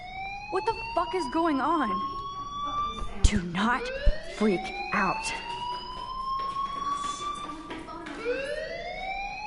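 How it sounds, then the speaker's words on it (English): A fire alarm rings inside the video game Life is Strange, its rising and falling electronic wail sweeping steadily through the whole stretch at moderate level while a voice talks over it. "do you hear that fire alarm?"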